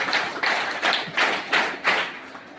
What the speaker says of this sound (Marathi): पृथ्वीचा पिता बरोबर सांगितलं आहे या विद्यार्थ्याने, त्यासाठी जोरदार टाळ्या वाजवा